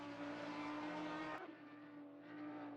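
A GT4 race car engine in Assetto Corsa Competizione at Zandvoort holds a loud, steady high-rev drone, then drops abruptly mid-way as if lifting or shifting before building again.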